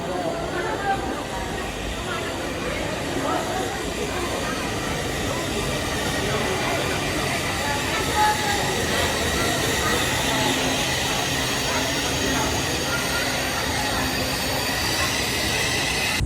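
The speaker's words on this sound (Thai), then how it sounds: "นี่ได้ตัวรถไฟมาแล้ว" A high-speed train on the Laos railway to Luang Prabang arrives at a station, rumbling steadily with a broad, continuous roar and faint wheel squeal, close by, with indistinct voices murmuring underneath.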